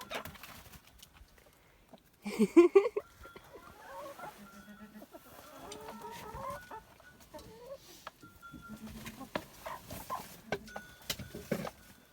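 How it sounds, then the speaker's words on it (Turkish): Chickens cluck and murmur nearby on a snowy village day, with a few louder squawks and scattered rustling, against a quiet background and some soft human sounds. "Tavukları şimdi salacağız."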